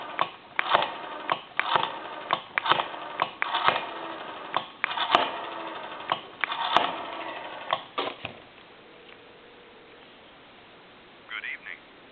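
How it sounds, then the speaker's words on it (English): Rotary dial on a Western Electric 302 desk telephone spinning and returning, a run of sharp clicking pulse bursts for about eight seconds, followed by quiet line hiss and a faint tone at the end. "I'll go ahead and dial a time and temp number"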